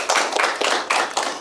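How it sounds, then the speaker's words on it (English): A few people clap briefly for the AUA team on an accountancy TV game show, close, loud, uneven bursts of hand claps in quick succession. "Round of applause for AUA, please."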